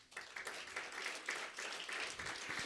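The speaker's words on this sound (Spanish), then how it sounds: "Otro aplauso para el Señor." Quiet applause from a church congregation, a soft continuous patter of clapping that stays fairly even, heard at a distance.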